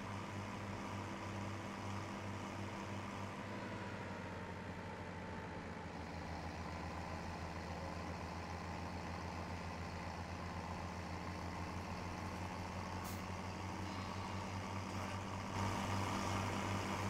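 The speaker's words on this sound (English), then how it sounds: "I know we left our milk truck back there." A milk truck idles in Farming Simulator 17, a continuous low droning engine hum that stays steady and even throughout with no other sounds.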